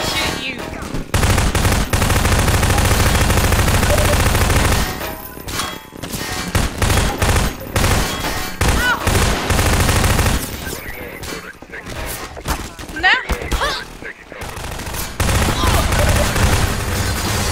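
Gunfire in the video game Half-Life 2, in Synergy co-op play: loud, dense bursts of rapid automatic fire, broken by short pauses and tailing off into scattered shots, with players talking over it.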